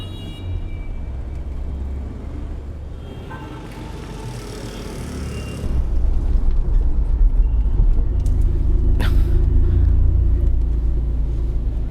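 Heavy road traffic with a steady low rumble of engines, swelling louder about halfway through as vehicles pass close, with a brief sharp tone near the end.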